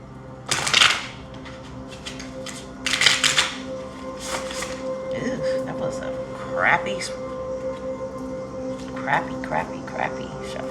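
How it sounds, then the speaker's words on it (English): Several bursts of crisp tarot card riffling and shuffling, with soft clicks and flutters in between and a faint background hum. "Crappy shuffle."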